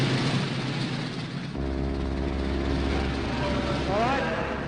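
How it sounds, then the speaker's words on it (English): A 1942 Fleet Air Arm propeller plane takes off from an aircraft carrier deck, its engine roaring up loud and steady with a low, harmonic drone that rises in pitch toward the end, over broad wind and deck noise. "Flag officer lets the first plane go."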